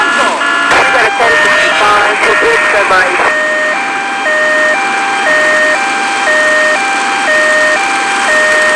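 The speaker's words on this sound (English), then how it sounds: "I have no idea how to turn off that siren, except for getting out of the car." A car siren wails loudly and steadily, cycling through a regular two-tone pattern throughout. Voices and a brief clatter are heard over it at the start.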